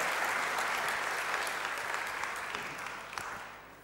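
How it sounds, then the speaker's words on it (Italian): Applause from an audience for a professor at a public talk on rights in Parma: steady dense clapping that holds level and fades slightly at the end, with no talk over it. "un applauso al professore"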